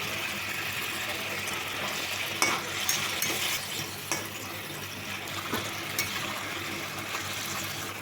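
Rohu fish cooks in a yogurt sauce in a pan with a steady, close sizzle, broken by several scraping stirs and knocks of a utensil against the pan.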